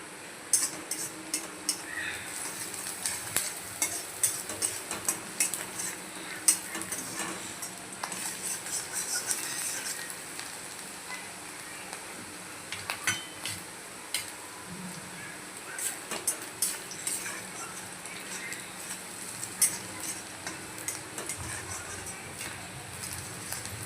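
Onions frying in a pan for Khandeshi thecha chicken, a low continuous sizzle broken by irregular scraping clicks of a spoon stirring against the metal, close and fairly quiet.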